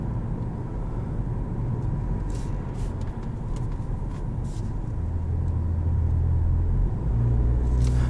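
A 2019 Toyota Camry XLE driving in eco mode, with a steady low engine and road rumble from inside the cabin that swells slightly toward the end, no talk.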